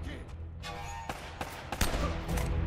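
Gunshots in Uncharted: Drake's Fortune during a surrounded shootout, coming as a quick uneven series of sharp cracks that grow louder toward the end over a dense game background.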